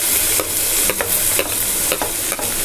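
Chopped onion sizzles steadily in a hot pan while a utensil stirs it, scraping in regular strokes about every half second.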